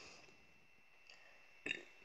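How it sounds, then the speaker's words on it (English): A single short, soft burp after drinking soda, heard close by but faint, rising briefly out of an otherwise quiet background. "Sorry, I had a little soda burp."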